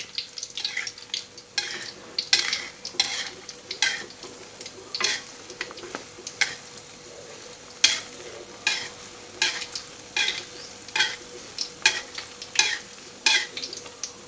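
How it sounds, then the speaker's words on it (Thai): A Thai omelette fries in a wok of oil, sizzling steadily while a spatula repeatedly scrapes and slides under it in irregular strokes, close and clear with no talk over it. "ไข่เริ่มฟูแล้วครับ แล้วก็เริ่มแซะนะครับ ค่อยแซะนะครับ"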